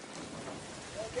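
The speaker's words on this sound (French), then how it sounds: "il pleut à torrents pendant 1 mois" Torrential rain pouring down steadily near Hawaii, a dense continuous broadband hiss of heavy downpour with no breaks, fairly quiet overall.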